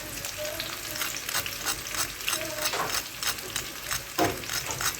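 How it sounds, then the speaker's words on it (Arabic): Crispy oven-fried cauliflower, made without oil, crunching in a quick series of sharp, brittle crackles heard up close and fairly faint, with no one talking. "اسمعوا كده صوت القرمشة دي"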